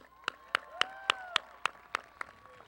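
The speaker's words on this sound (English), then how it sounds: "Please give a round of applause for that" Applause at a 2015 high school graduation ceremony in Yuma, Arizona, heard as about nine sharp, evenly spaced claps over a faint sustained hum in a large hall.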